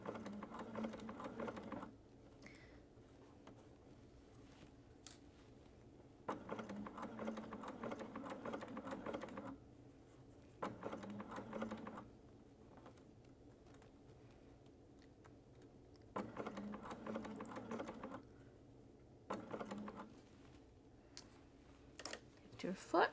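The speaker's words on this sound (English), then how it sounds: "And we'll start sewing. Making sure to stick to our seam allowance." A sewing machine stitches a shirt collar seam, running in several steady bursts of mechanical whirring with short pauses between them, close and moderately loud.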